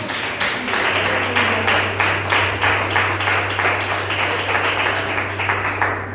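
A church congregation claps hands in a steady, rhythmic beat, roughly two claps per second, loud and close throughout, with a low hum running beneath the clapping.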